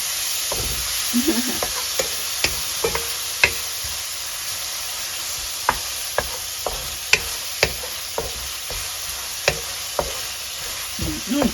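A reheated dish sizzles and fries in a pan while being stirred, with a steady hiss broken by regular sharp clicks of a utensil scraping and tapping the pan, close and fairly loud.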